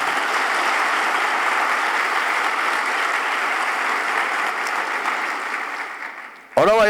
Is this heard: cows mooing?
no